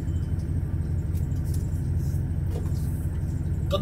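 Steady low engine rumble from a car rolling downhill in seventh gear with engine braking on the Anchieta highway descent, Serra de Cubatão, a constant droning hum with no acceleration surges and no voices.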